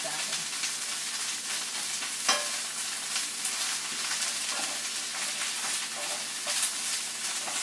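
Beef browns in a frying pan with a steady, close sizzle and hiss throughout. The meat is stirred and turned now and then, and no one speaks.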